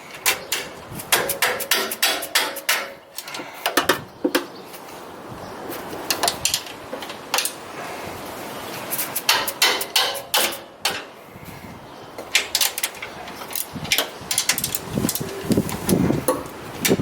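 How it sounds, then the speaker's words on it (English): Dead blow hammer striking loose stock shock bolts on a 2018 Toyota Tacoma in a tight space during a lift install, with sharp repeated knocks in bursts of quick strikes, close and loud, separated by brief pauses. "Dead blow is a good tool to kind of get these loose"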